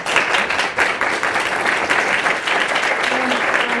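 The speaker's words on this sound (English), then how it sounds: "Let's give her another round of applause" An audience applauds after an art and design presentation, steady dense clapping from a full room throughout, loud and continuous.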